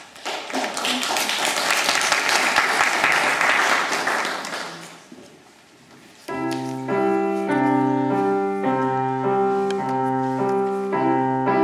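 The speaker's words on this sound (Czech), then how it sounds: "A samozřejmě je nezapomeňme obdařit vřelým tleskem." Warm applause at a student concert, a dense sustained clapping crowd that fades out, followed by piano notes starting up.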